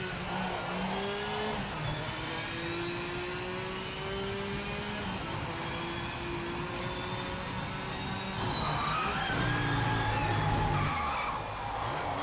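A race car in Project Motor Racing, engine droning at high revs while tires squeal through a tight turn, with gear changes as the throttle comes on early, loud and continuous with no talk.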